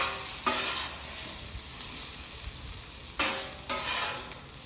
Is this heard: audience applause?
no